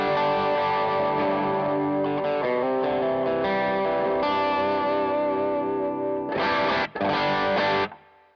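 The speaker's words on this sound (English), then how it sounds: "I use the sick-as as kind of like a rhythm overdrive." Overdriven electric guitar through a Sick-As rhythm overdrive pedal, sustained distorted chords ringing thick and loud for several seconds, then two short bursts of harder strummed chords with a brief gap between them.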